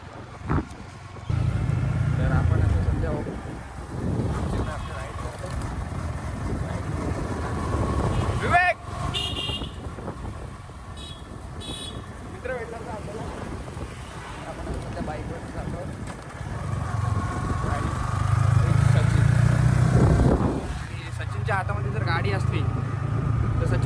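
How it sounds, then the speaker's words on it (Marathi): A Yamaha R15 V3 motorcycle rides along with a steady engine drone and heavy wind buffeting the microphone, rising in loudness toward the end, while a rider talks over it. "मी तुम्हाला आता आमचा बाईक रायडिंगचा सुद्धा दाखवतो"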